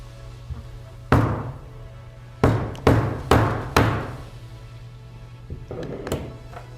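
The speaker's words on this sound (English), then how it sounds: "we're going to help it along with a hammer." Several sharp percussive hammer strikes against a glass candle jar, spaced unevenly with a pause before a final softer pair, over a steady low hum.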